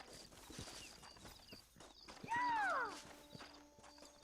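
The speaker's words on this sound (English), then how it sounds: "Horses are over here." Horses in the Red Dead Redemption video game clip-clop at a walk, hooves tapping irregularly, then one horse lets out a loud, rising-and-falling neigh, with faint game ambience around it.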